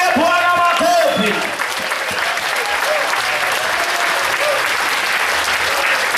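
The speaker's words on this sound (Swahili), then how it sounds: "Shall we stand up and give the Lord a clap together?" A church congregation on its feet clapping together for the Lord: loud, continuous crowd applause filling the room, with voices and some sung or called-out tones rising over it at the start.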